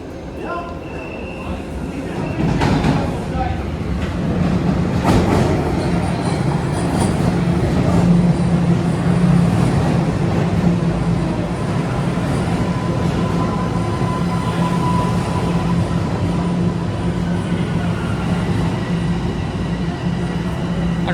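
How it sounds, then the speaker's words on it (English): A Toronto subway train rumbles past the platform at Union Station during rush hour. A loud, sustained roar comes with rail clatter and a few sharp metallic clicks, steady for the whole passage. "I don't think I'll get on this train. I'll just wait for the next one and watch this go by."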